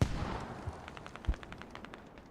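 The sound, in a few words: mortar fire in the video game Squad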